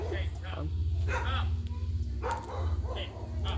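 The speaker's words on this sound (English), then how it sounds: "Boy, neighborhood dogs going nuts." Neighborhood dogs barking excitedly outdoors near a chicken coop, several sharp yips and barks at mid-distance in irregular bursts, with someone talking over them.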